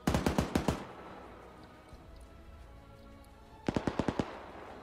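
Two quick bursts of automatic gunfire in the military game Arma 3 as a fort comes under attack, about five sharp rounds each, loud and close, with a quieter rumbling battlefield ambience between them.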